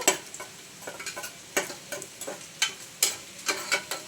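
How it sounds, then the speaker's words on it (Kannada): Cashews fry in a pan for rice kheer, with light crackling sizzle and a run of irregular tapping and scraping stirs, close and fairly distinct. "ಒಂದು 20 ನಂಬರಷ್ಟು ಗೋಡಂಬಿ ಹಾಕ್ಕೊಳ್ಳೋಣ. ಅದು ಫ್ರೈ ಆದಮೇಲೆ, ಸ್ವಲ್ಪ ಬ್ರೌನ್ ಕಲರಾಗಿ ಫ್ರೈ ಆದಮೇಲೆ"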